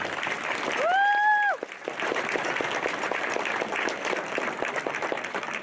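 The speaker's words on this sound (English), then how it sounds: "Round of applause for them." An audience claps at a vocational college awards ceremony. A short, bright whoop rings out at the start, then several seconds of steady, moderately loud applause with a little crowd murmur.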